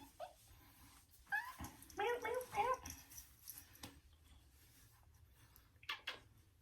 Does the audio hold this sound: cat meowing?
yes